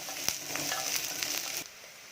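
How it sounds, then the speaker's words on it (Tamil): Onions frying in a pan with curry leaves and garlic for a Tamil vegetarian lunch, a steady close sizzle with a few stirring clicks and scrapes that cuts off sharply near the end, leaving quiet room tone. "வெங்காயம் நல்லா வதங்கட்டும்"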